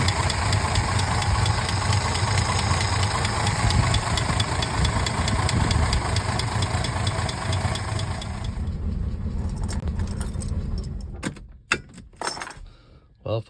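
A 1968 Mercedes-Benz 230 engine with a freshly repaired Zenith 35/40 INAT carburetor runs at a steady idle for about eight seconds, then the noise breaks into scattered clunks and knocks near the end.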